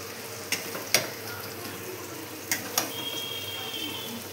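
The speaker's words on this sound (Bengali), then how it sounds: "মাংস কষানো হোক" Mutton sautés (kosha) in a pan, giving a continuous close sizzle with sharp spoon knocks against the pan at irregular moments and a faint thin tone near the end; no clear speech.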